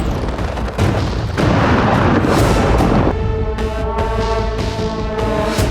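Drone strikes set off heavy explosions at Russia's Engels airbase, with loud, rumbling booms and sharp blasts one after another, followed by a sustained tonal drone beneath further bursts.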